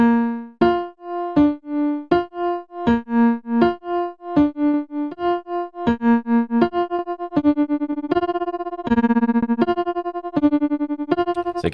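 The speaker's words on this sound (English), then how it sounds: "The volume is actually going to cut in and out." Synth chords run through an auto-pan effect, the sound chopping rhythmically in and out as its volume pulses, steady repeated notes stepping through a simple progression.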